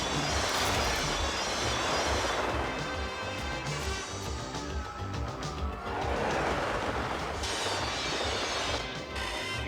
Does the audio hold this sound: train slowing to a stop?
yes